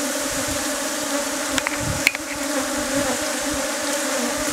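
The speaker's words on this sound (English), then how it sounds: "the bees are trying to attack the enemy" Honey bees buzz close and loud during bee venom collection, a dense, continuous droning hum with a few brief clicks and taps over it.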